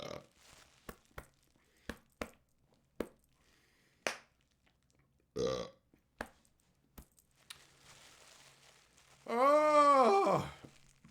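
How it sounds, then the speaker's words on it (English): Someone hiccups repeatedly, about a dozen short sharp gulping bursts spaced roughly half a second to a second apart, close to the mic, followed by a drawn-out voiced groan near the end. "Fucking hiccups."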